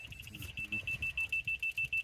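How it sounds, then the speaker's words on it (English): A high electronic beep from a grade-rod laser receiver, signalling level with a digital laser, repeats in a quick, steady rhythm, clear and close, over low rumbling background noise at a construction site building ICF block stem walls. "a steady beep on the grade stick means that it's level with our digital laser"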